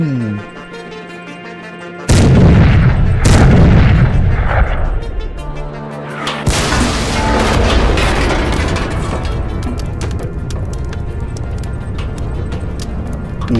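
Heavy tank gun shots boom loudly in an animated cartoon battle, two or three blasts with long rumbling decay, followed by sustained battle noise and rolling explosions.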